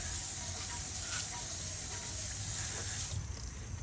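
Water sprayed onto a filthy Mercedes wheel rim in the shade gives a steady, close hiss that holds evenly throughout, with no talk over it.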